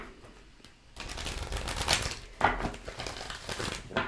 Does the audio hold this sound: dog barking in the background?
no